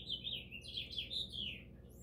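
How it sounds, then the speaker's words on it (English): Birds warble and trill continuously in a bright, flowing song for the whole two seconds, fairly soft against a low background. No one speaks. "I love the sound of birds"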